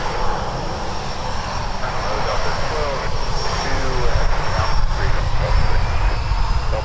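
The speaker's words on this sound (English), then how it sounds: "This is Sun Country Flight 261, headed to Chicago with a 737-800 in the Tide Pod livery." A Sun Country Boeing 737-800 jet at Minneapolis–St. Paul airport roars loudly and continuously, a close, broad engine rumble swelling slightly as it passes.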